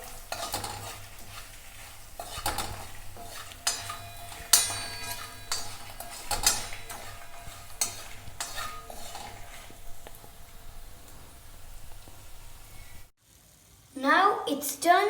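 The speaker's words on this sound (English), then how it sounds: "we're going to add all the spices and then cook for a couple more minutes and mix it well" Spices for a Rajasthani garlic and red chilli chutney are stirred and cooked in a pan, with a spoon scraping and clinking against the metal and a low sizzle running underneath. A sharp burst of sizzling and clatter comes near the end.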